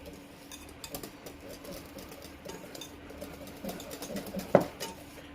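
A whisk stirs icing sugar in a bowl with soft, faint, irregular scraping and tapping strokes, quiet throughout, with one sharper clink near the end.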